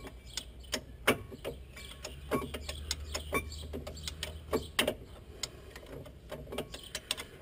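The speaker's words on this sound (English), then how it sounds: "Can use a ratchet, of course, a socket set." A ratchet with a socket set clicks in quick, uneven bursts of sharp ticks while working on the front brakes of a Ford Mondeo, close and fairly quiet.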